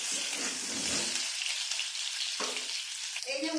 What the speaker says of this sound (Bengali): ওই সিদ্ধ আলুটা ভেজে নিচ্ছেন